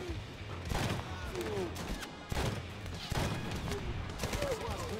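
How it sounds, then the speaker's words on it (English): Bursts of rifle and weapon fire from a Medal of Honor video game .50 cal sniper mission crack out repeatedly in uneven volleys, some sharp and loud, under someone talking over the action. "you're going to start firing a lot of rounds downrange"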